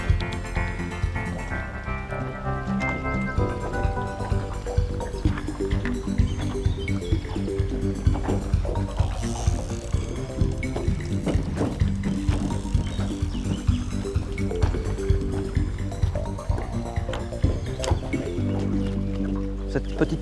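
Steady rushing water pours down a cascade beside a carp fishing spot, a dense, continuous roar with no pauses, close and loud throughout.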